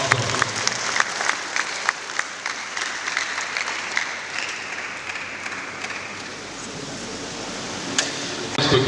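An audience applauds at a university orientation session, a dense, steady wash of many hands clapping for about nine seconds, heard from some distance at moderate level.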